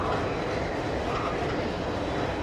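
Continuous rumbling roar of a train moving along the tracks, steady and fairly loud with no voices.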